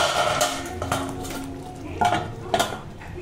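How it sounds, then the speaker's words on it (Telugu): A spoon stirs curry in a metal pot while it cooks, giving a few scraping, clinking strokes in an irregular rhythm, close and moderately loud, with no talking. "ఇలా కలుపుకొని ఒక 2 మినిట్స్ అయితే ఉడికించుకోవాలి"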